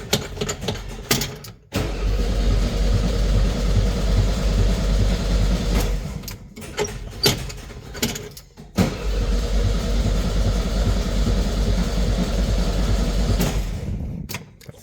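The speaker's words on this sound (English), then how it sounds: "Put a battery in it. Let's see if it'll start." Starter cranking the engine of a 1972 Volkswagen Beetle under restoration, long grinding turnover runs broken by brief pauses between attempts, loud and close with no catch.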